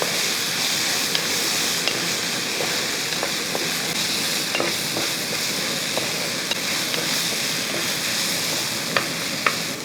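Vegetables sautéing in a pan for a curry, a loud continuous sizzling hiss with occasional small spoon clicks and stirring scrapes, close up and steady throughout, no voices.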